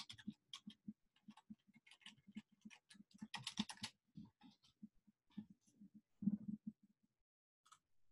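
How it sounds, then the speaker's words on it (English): Keyboard typing on a computer while a message is composed, with irregular bursts of quick clicks across the whole stretch, fairly close and clear, and no talk over it. "I'm just going to type a message here"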